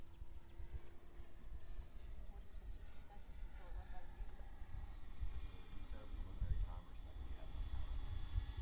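A T-45 jet engine throttled back while gliding past makes a low, steady rumble that stays fairly quiet, swelling slightly toward the end, with talk faintly underneath.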